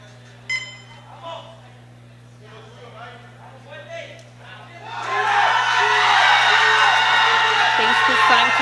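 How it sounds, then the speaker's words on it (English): Crowd cheering a junior 83 kg classic powerlifter at a world sub-junior and junior powerlifting championship. A commentator talks over a quiet hall at first, then the cheering swells into a loud, sustained roar for the rest of the clip. "Crowd is cheering him."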